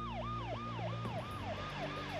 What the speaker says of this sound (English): I happened to hear a siren.